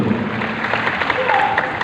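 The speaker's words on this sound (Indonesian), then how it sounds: "Tepuk tangan yang paling meriah" Church congregation breaking into applause during a sermon, a brief dense burst of clapping from many hands filling the room, loud and close, with a faint tone briefly rising above it.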